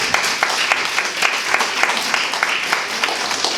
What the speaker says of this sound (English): give us all a clap and all the men that support us.